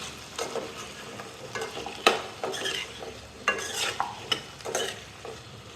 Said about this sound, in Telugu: ఇప్పుడు మనం కట్ చేసి పెట్టుకున్న క్యారెట్ ముక్కలు అలాగే బంగాళదుంపల ముక్కలు కూడా వేసుకోవాలి వీటిని బాగా ఫ్రై చేసుకోవాలి